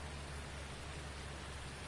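Steady, faint rain falls on a farm field in a farming video game, an even hiss of drops with a low hum beneath and no voices.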